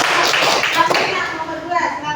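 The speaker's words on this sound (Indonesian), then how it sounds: "kita beri tepuk tangan." A classroom of students claps hands together in a steady, fairly loud burst of applause lasting the whole stretch, with some voices mixed in.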